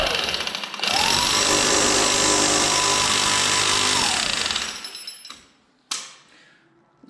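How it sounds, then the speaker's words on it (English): A drill bores into brand-new concrete only a couple of months old, a loud sustained grinding roar that cuts off abruptly, followed by a sharp knock and fading rattles. "Let's turn it on drill mode."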